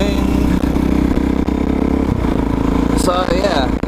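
A Suzuki DRZ400SM supermoto, a high-tuned 400 cc single, runs loud and steady throughout with its engine note droning and rising briefly near the end, under a rider talking.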